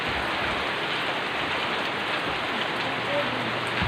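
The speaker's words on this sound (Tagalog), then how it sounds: "pag magtuloy-tuloy pa yung ulan na ganito, malamang guys ay babahain na naman tayo dito" Heavy typhoon rain pours down steadily in Northern Samar, Philippines, a dense, constant hiss of drops drumming on surfaces close by, with no voices.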